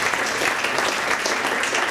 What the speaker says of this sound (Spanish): ¿quién está? Bien, un aplauso.